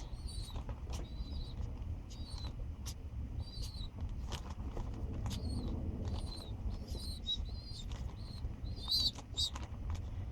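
A baby pigeon being hand-fed gives repeated thin, high squeaks in short bursts throughout, faint against a steady low background rumble, with occasional soft clicks.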